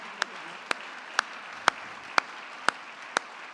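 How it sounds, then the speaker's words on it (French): Applause at an award ceremony for research grant winners, with a steady bed of crowd clapping and a few sharp, evenly spaced louder claps standing out about every half second. "On peut l'applaudir."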